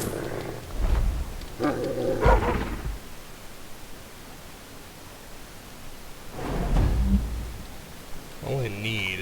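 A dog in the video game Thief gives a few deep, gruff barks and growls in separated bursts over a low ambient hiss.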